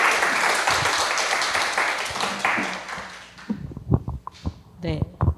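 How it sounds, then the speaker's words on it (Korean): Audience applause welcoming a presenter at a Protestant church academy lecture, steady dense clapping for about three seconds that fades out, followed by a speaker beginning to talk. "그러면 오수경 선생님을 박수로 환영해 주시기 바랍니다."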